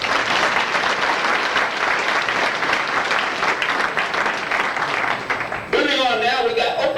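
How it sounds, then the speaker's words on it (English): Audience applause at a 1993 St. Louis auto racing fan club banquet, a steady roomful of clapping that cuts off as a voice begins speaking. "let's give him a round of applause, please."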